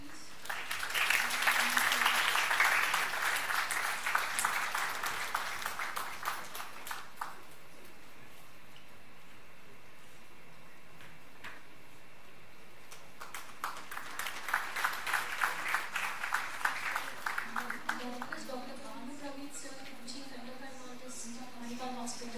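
At a medical conference session, the audience claps in two bursts, a strong round at the start and another in the middle, separated by quieter room noise, with a voice speaking at the close.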